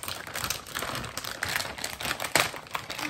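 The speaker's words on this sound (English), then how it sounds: "Which side should I cut? Feels like nothing's there, so I'm gonna cut right there." Blade cutting into the plastic wrapping of a nanana surprise package, a run of crisp crinkling, snipping and rustling taps up close with no talk.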